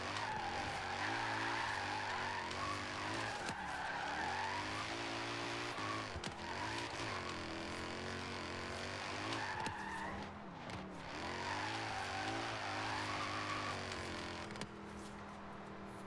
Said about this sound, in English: Don't these AIs know we're drifting?